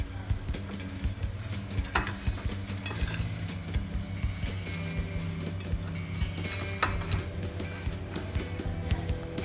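Cut bitter gourd is tossed and mixed with salt, giving a close, steady rustle with frequent light clicks and clinks in an irregular rhythm.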